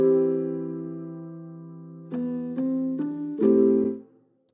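Lofi chord progression on a keyboard-like instrument, a long sustained chord followed by several quick passing transition notes and chord changes, loud and close with no talking.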